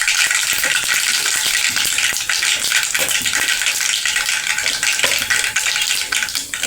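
Mustard seeds and cumin sizzle and crackle in hot oil, a steady, loud frying hiss with scattered pops that lasts throughout, with no talking over it.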